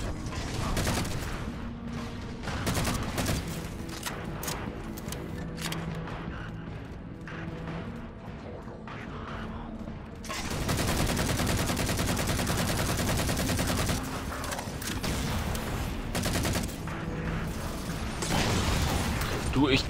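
Assault rifle fire in Halo 4 rattles in repeated rapid bursts, loud and close, mixed with mechanical clicks and other game effects, while players talk over the action.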